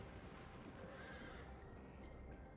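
A horse mount in a video game neighs faintly within a dense, steady bed of game ambience and background noise.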